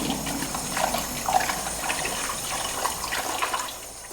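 Chestnuts rinsed under a running tap, a steady close splashing stream of water that flows evenly and gently throughout, with no one speaking.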